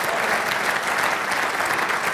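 Audience applause at a tech summit, a dense continuous wash of many hands clapping together, loud and steady throughout with no gaps.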